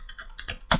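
A computer keyboard clicks in a quick handful of keystrokes close by, light taps followed by a sharper, louder press near the end.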